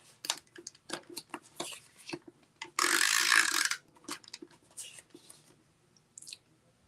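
A tape runner lays adhesive onto red cardstock at a craft table with a silicone mat, a close, loud rasping strip lasting about a second amid quieter handling clicks and taps.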